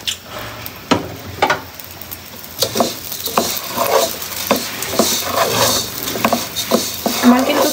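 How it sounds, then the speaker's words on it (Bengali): Rice fried in ghee with cinnamon and cardamom for chicken biryani is stirred in a pan, with scraping strokes and clinks over a soft sizzle in irregular bursts. "এখন আমি চাউল দিয়ে দেবো। সামান্য পরিমাণে ঘি দিয়ে দেব।"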